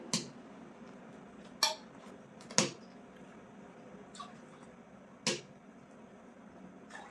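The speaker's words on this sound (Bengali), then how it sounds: "এবার এখান থেকে আমি কিছুটা দুধ আমি তুলে নেব এই বাটির ভিতর" A spoon or ladle clinks against a pan and bowl while boiled milk for payesh is scooped out, giving five or six sharp, separate metallic taps over a quiet kitchen background.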